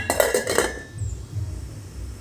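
A metal lid clanks onto a cooking pot of Filipino fish sinigang, a few quick clinks packed into the first half-second, followed by low kitchen rumble.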